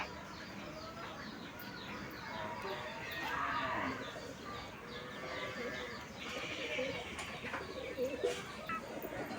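Soft pigeon coos repeat against a steady outdoor background, with a slightly louder stretch midway and near the end.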